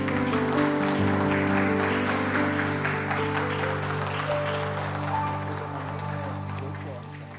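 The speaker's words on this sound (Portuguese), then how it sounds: "Você pode aplaudir ao Senhor?" A church congregation claps for the Lord during a prayer service, steady applause that slowly fades while sustained organ or keyboard chords ring underneath.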